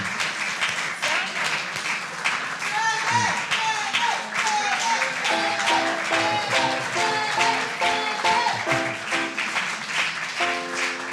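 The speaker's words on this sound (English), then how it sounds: "So let's give Travis a round of applause and a standing ovation." Applause for the audio and video technician at an Easter celebration church service rises under loud music with organ or keyboard chords, the clapping partly masked throughout.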